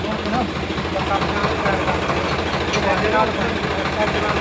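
Two tractors, models 735 and 1744, run close by pumping water out of a drainage channel into the Sutlej river, giving a steady low engine drone with a faint knocking pulse, continuous and unchanging, with some talk mixed in.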